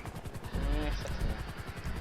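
A helicopter in GTA V Online idles close by with a steady rotor chop and low thumping hum that runs through the whole moment, with voices talking over it.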